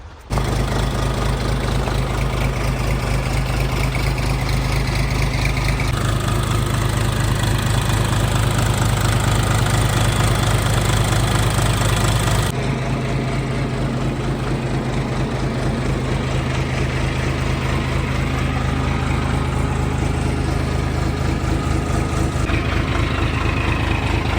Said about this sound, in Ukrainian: Демонструю роботу двигуна та світлових приладів